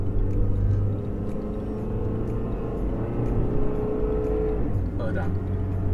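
A 30-year-old Honda Accord with about 80,000 km and an automatic gearbox in sport mode drives and accelerates through its gears. A steady engine drone fills the cabin, with a brief shift change near the end, while people talk over it.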